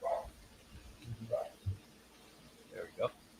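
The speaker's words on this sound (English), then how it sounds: "That would be my dog, and he's barking" A dog barks several times in short bursts from a short distance away, mixed in with people talking casually in a room.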